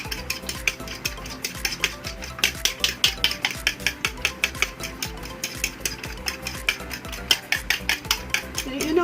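Pancake batter stirred briskly in a bowl, a quick steady run of clinking, scraping utensil strokes, close and fairly loud, without talk.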